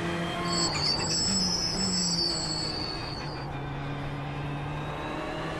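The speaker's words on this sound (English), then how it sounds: "the brakes, that sound of the brakes are going to be irritating" A high, thin brake squeal from an F1 car in iRacing whines over the steady engine drone for roughly three seconds, then fades, leaving the lower engine hum running alone.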